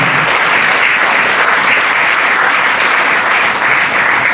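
A summit audience claps loudly and continuously, a dense wash of applause from many hands that holds steady from start to finish with no voices breaking through.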